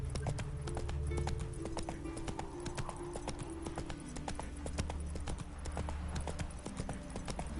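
Horse hooves in the video game The Witcher 3 clip-clop in a steady, continuous trotting rhythm, close and fairly quiet over a low background hum.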